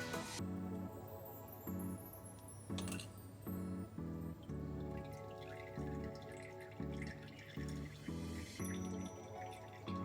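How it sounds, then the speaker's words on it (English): Melted beeswax drips through a filter into a bowl, a steady, faint sequence of small repeated drops and soft plinks in close, quiet surroundings, with a low steady hum behind them and no talk. "I'm just going to let this drip for a little bit because it will have some wax in here"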